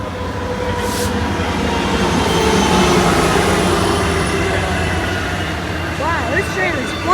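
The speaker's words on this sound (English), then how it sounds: "Wow, this train is flying into the station." A commuter train rushes fast into Mineola station on Long Island, a loud sustained rumble and rail roar building close by, with wind buffeting and a brief rising squeal near the end.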